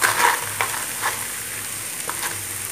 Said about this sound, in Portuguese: vou colocar um pouquinho de coentro aqui congelado, ó. Pra ele manchar também no calor aqui da frigideira